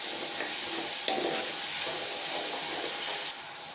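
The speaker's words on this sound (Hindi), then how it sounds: "तो अब हम इसको प्याज को पकाएंगे तकरीबन थोड़ा हल्का सा लाइट कलर चेंज होगा" Onions fry in a kadhai with a steady, close sizzle and hiss, broken by the scrape of occasional stirring, and no voices over it.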